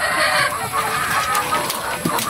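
A flock of over a hundred RTL chickens clucks inside a backyard poultry house, with continuous overlapping close-up clucks and squawks.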